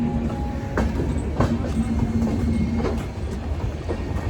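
A train arriving at a railway platform in Delhi, a steady rolling rumble with repeated rhythmic clacks of wheels over rail joints and a faint metallic squeal, heard nearby throughout.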